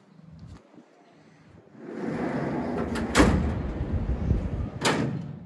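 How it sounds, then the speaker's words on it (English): Storage doors on a tradesman trailer closing, with two sharp, close thuds as the doors shut over a steady background rush and faint handling noise. "the doors close like a baby"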